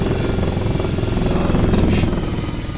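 A helicopter flies in the DCS flight simulator, its steady, loud rotor and engine drone filling the clip with a continuous low throbbing hum and no talking.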